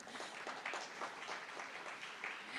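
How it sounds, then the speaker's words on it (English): Conference audience clapping for the mayor: a steady, dense wash of many hands at moderate distance, continuous throughout with no pauses. "you can clap for the mayor"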